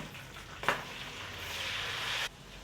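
Beef pieces are dropped into a hot pot for beef yakhni pulao, setting off a sudden bright hiss after a soft clunk, followed by a steady close sizzle that cuts off abruptly.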